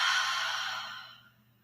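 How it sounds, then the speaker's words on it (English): A deep cleansing exhale pushed out through an open mouth during a slow yoga flow, a single long breathy rush that starts strong and tapers away over about a second and a half, heard alone. "Then open your mouth and exhale."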